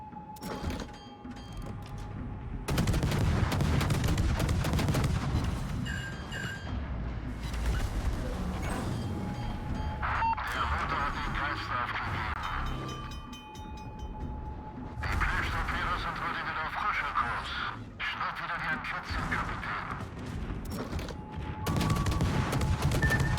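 Automatic guns firing in World of Warships from the destroyer Álvaro de Bazán: continuous rattling volleys and thudding mechanical bursts under a steady background rumble, with someone talking over much of it.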